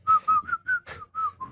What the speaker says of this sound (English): Why does it whistle like that?